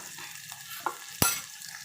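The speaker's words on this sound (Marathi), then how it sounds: "कांदा थोडासा आपण तेलामध्ये गुलाबी होईपर्यंत असा भाजून घेऊया" Onion frying in oil for a Malvani-style goat lung dish, a soft sizzle with a couple of brief scrapes and one sharp clatter midway, close and fairly quiet.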